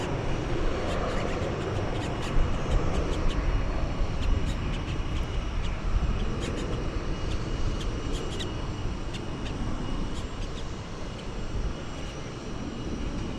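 Sun Country airliner at DFW airport, its engines giving a broad, steady roar that holds fairly loud throughout, with faint talk underneath.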